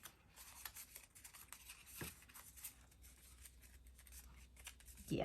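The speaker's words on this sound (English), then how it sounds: "I'm just going to use my scissors" Scissors snipping through a manila file folder, a series of quiet close crisp cuts and paper rustles with one sharper crunch midway, no talking.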